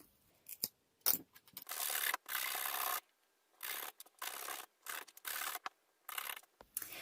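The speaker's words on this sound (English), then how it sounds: "And then I'll sand the edges off once I'm done." Wooden pieces for autumn craft decor are sanded along their edges by hand, giving repeated bursts of close, dry rubbing and rasping strokes separated by short pauses.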